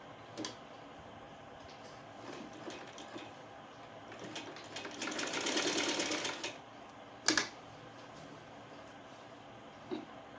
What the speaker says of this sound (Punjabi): ਹੁਣ ਆਪਾਂ ਇਹਦੀ ਇੱਥੇ ਇੱਥੇ ਸੀਨ ਲਾਉਣੀ ਹੈ